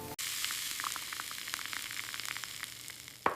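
Scallops fry in a hot pan with a steady, close sizzle and scattered crackling pops, running continuously with no voices.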